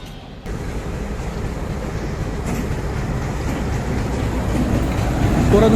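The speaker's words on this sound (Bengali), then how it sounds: "আর অল্প সময়ের মধ্যে হয়তো পুশব্যাক সম্পন্ন শেষ করে 1 নম্বর লাইনে এসে দাঁড়াবে আমাদের এই টুঙ্গিপাড়া এক্সপ্রেস ট্রেন।" The Tungipara Express is pushed back into position at Poradah Junction, a steady rumble of rolling railway wagons that starts after a short quiet moment and builds gradually louder.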